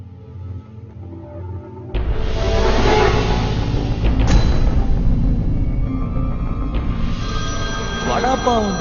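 A telephone rings with a bright electronic tone over a dense background of music and noise, close and fairly loud, in a film scene.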